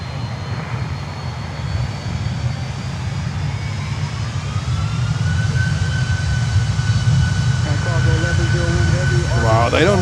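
Aircraft engine roar from a plane taking off on a Miami airport runway, a steady broadband rumble building louder through the second half, with a few faint radio-like tones near the end.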